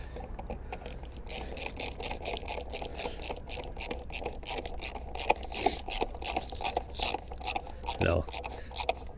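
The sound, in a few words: tightening a screw with a bit, 2014 Chevy Equinox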